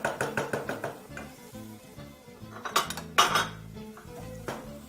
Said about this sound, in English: So we're going to continue continuously stirring this